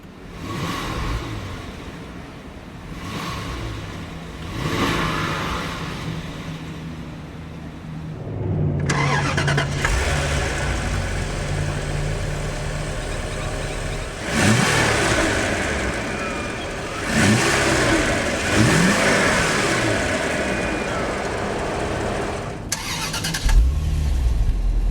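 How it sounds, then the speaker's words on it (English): A 2014 Bentley Mulsanne twin-turbo V8 cranks and fires up with a loud rise, then settles into a steady idle punctuated by several revs, close and clear with no talking. "hit the console-mounted button to start. Beautiful melodic note from that twin-turbo V8."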